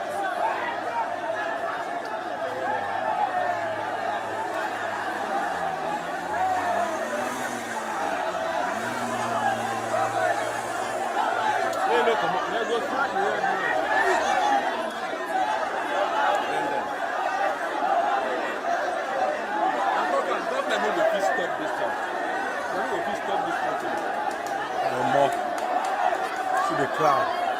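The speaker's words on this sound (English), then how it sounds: "The crowd." A dense crowd at a street protest in Abuja, Nigeria keeps up steady overlapping chatter, with scattered chuckles and a nearer voice talking over the murmur throughout.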